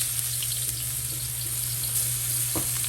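Chopped onion hits a hot pan while pork adobo is being cooked at home, giving a steady, close sizzle with faint clinks throughout.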